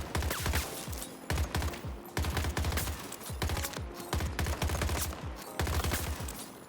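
A rifle in Battlefield 2042 fires in burst mode, with rapid clusters of sharp, punchy shots repeating every second or so, loud and close with some echoing tail between bursts.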